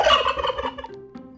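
A turkey lets out a loud, close gobble, a rapid warbling burst that tails off within about a second, with no voices.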